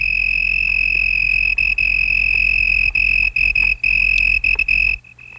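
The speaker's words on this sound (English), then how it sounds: "The leaf is the cricket's soundboard, and the sound produced is magnified in intensity as much as 3 times." Cricket chirping on a leaf that acts as its soundboard, a steady, loud, continuous high trill with brief dropouts near the end before it stops.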